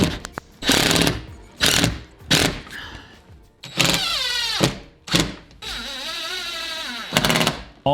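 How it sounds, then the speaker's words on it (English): A power drill pre-drills screw holes through a campervan's metal roof into the wooden frame beneath, in repeated short loud bursts, some revving up and down in pitch, close by. "I just started pre-drilling through the roof and into the wooden frame to make small holes for the screws"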